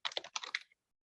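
Quick run of computer keyboard keystrokes, about ten crisp clicks in under a second, close and clear, then silence.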